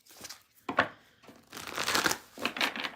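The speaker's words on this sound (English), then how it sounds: "2 more decks to shuffle" Decks of playing cards are shuffled nearby in a few bursts, papery riffling and bridging rustles separated by short pauses, with no talk over them.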